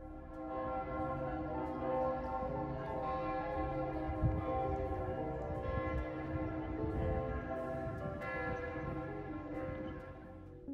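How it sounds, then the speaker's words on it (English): Several church bells in Zurich, Switzerland peal together in a dense, overlapping ring, sustained and resonant throughout, heard from a moderate distance. "let's leave Switzerland by listening to the church bells in Zurich"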